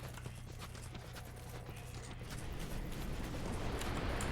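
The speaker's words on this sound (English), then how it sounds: "I think I heard a horse." Horse hooves clip-clop steadily in the Dark Souls 2 video game, faint and muffled beneath a constant wash of ambient game noise that swells slightly toward the end.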